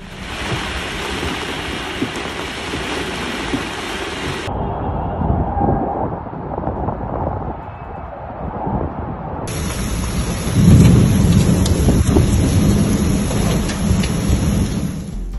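Heavy rain and thunder during flash floods in Saudi Arabia, a loud, dense wash of rainfall with deep rumbling thunder, the texture shifting between sections as the downpour continues without voices.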